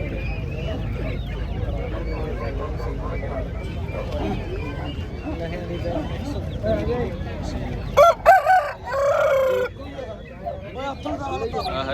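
A rooster crows twice in quick succession near the end, rising over a steady background of voices and crowd noise at the Talwandi Sabo horse fair.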